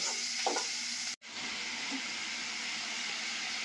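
Spiced masala for a Bengali fish bhuna curry sizzles steadily in a hot pan, a constant close frying hiss with a brief stir clatter and a momentary break partway through.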